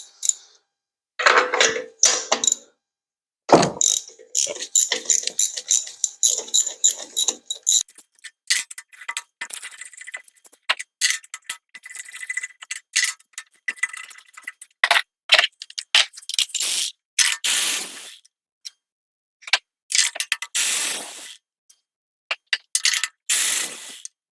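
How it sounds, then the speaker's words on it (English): A 3/8 ratchet with an extension and 5/8 spark plug socket clicks repeatedly while spark plugs are removed from a gasoline engine, bursts of sharp rapid ratcheting ticks separated by short pauses, close and fairly loud. "you want to get the 3/8 ratchet extension and a 5/8 spark plug socket, and remove all the spark plugs"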